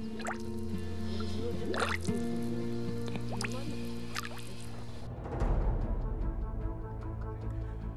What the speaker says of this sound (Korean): 마치 물풍선이 저기 아래에서부터 올라오는 것처럼 보글보글 꾸준히 계속 올라옵니다.